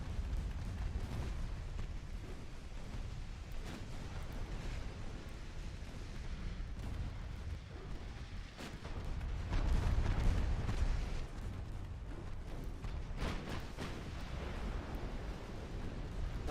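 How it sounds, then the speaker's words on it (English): Naval combat in a video game, with a double torpedo launch amid continuous low rumbling engine and water noise, a swelling heavier surge partway through and scattered sharp pops and booms, no voices. "That's a double torpedo launch, and there ain't no dodging that from this range."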